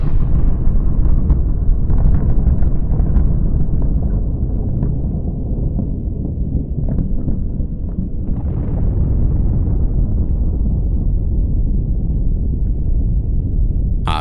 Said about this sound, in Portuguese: o cogumelo da bomba soviética RDS-1 se ergueu na zona de testes de